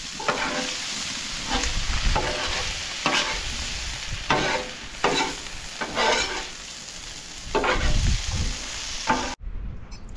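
Chopped bacon and cooked shrimp are stirred together in a sizzling pan, with a steady fry under repeated scraping strokes of a utensil, close and clear, no talking, ending abruptly.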